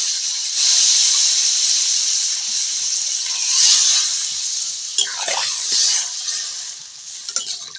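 Water poured into a hot pan of cauliflower sets off a loud, broad hiss that swells and then settles into steady steaming, with a few spoon knocks and scrapes near the end.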